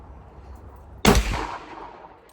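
Single loud pistol gunshot, a sharp close crack followed by a decaying echo, standing out from quiet background.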